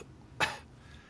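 A person imitates a persistent cough with a single short, sharp cough burst, close and fairly loud, surrounded by quiet.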